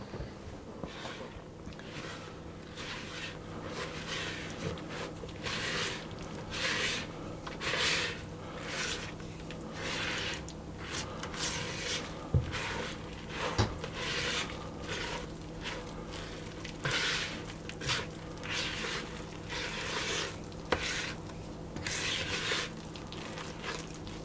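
Muffin batter of sultanas and oats being mixed in a bowl, with repeated soft squelching, scraping strokes in a loose steady rhythm, close and moderately quiet.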